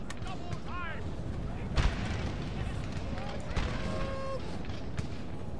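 Musket volleys crack out in a Napoleon Total War mod battle against redcoats, with two heavier broadband bursts around the midpoint and end over constant battle ambience, while someone talks throughout.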